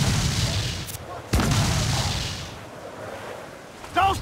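Ship cannons in Assassin's Creed Black Flag, a pirate naval-combat game, boom in heavy blasts, two sharp reports followed by a rumbling roll and another near the end, with shouted voices around them.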